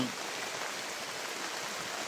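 Rain falls steadily as an even, dense hiss of drops on surfaces, constant in loudness from start to finish with no voices.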